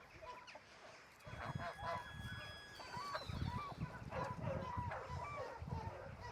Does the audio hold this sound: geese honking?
yes